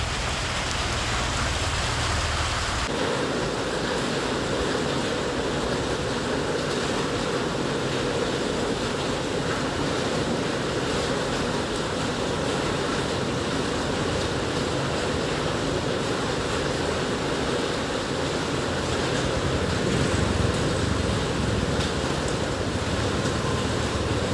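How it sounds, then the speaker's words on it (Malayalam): Steady, dense rain pours down during a Royal Enfield Bullet motorcycle ride on a wet hill road, with a constant rush of wind and spray. The sound is loud and unbroken throughout, and no one speaks. "ബുള്ളറ്റിലൊരു മഴയാത്ര നടത്തുകയാണ് ഞാനും അപ്പൂസും കൂടെ"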